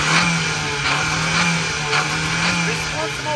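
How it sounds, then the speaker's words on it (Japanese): A kei truck engine idles with a steady low hum and a slight unevenness as the idle sags, loud and close, with faint background voices. "エンジンのアイドリングがどんどん下がっちゃって"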